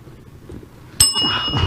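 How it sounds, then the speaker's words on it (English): On a live talk show, a bright bell rings once to end a timed headline discussion. It gives a sharp metallic ding with a ringing tail, rising out of quiet room noise. "at the end of that minute, you're going to hear this bell to stop and move on"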